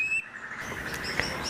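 A white-rumped shama (murai batu) sings in faint, thin high chirps and short whistled notes, with a brief sharper call near the end over quiet background hiss.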